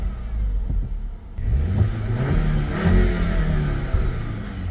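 A Cupra with about 200,000 km on the clock idles and then revs up, its engine giving a low, throaty rumble that rises and falls up close, with no talking.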